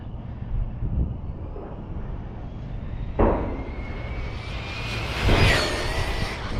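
A Losi Promoto RC motorcycle running at around 80 mph, its electric motor whining steadily over wind buffeting, with a sharp burst partway through and a louder, rising surge near the end.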